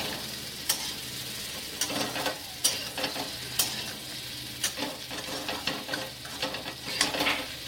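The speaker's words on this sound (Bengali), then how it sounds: "জিরে পাউডার দিয়ে একটু ভালো করে নেড়ে চেড়ে আবার খানিকক্ষণ ফ্রাই করছি।" Spices and cumin powder fried and stirred in a pan, with a continuous sizzle beneath repeated sharp scrapes and clinks of a spoon against metal at an irregular rhythm.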